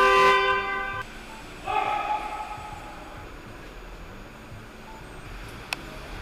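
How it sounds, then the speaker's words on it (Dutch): Car horns honking in stopped Los Angeles traffic, one loud blast at the start and a second shorter honk a moment later, then quieter street noise. "Waarom toeteren mensen ook zo supersnel?"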